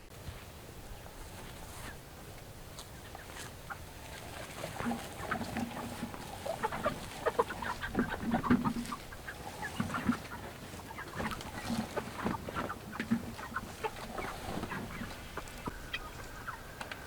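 Chickens clucking inside movable chicken tractors on a small farm in December, with scattered murmuring clucks and short calls that grow busier midway, set against soft outdoor noise and no talking.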